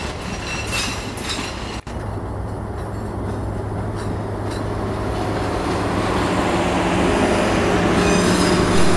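Baturraden Express passenger train, with five business cars, a power and dining car and two executive cars, rolls through a station, its steady rumble and wheel noise building louder over nine seconds, with a sharp click early on.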